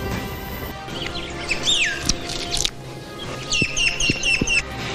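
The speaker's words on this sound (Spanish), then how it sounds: "un corral con aves exóticas en peligro de extinción" Exotic endangered birds in a ranch corral give scattered chirps and whistling calls, some rising and falling, mixed with a few sharp clicks over a low background hum.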